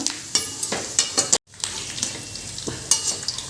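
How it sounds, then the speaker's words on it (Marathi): Onion roasting in oil in a pan until dark for homemade Solapuri black masala: a steady close sizzle broken by rhythmic scraping stirs, with one brief silent gap near the middle. "काळपट कलरीपर्यंत आपल्याला भाजून घ्यायचा आहे तो कांदा"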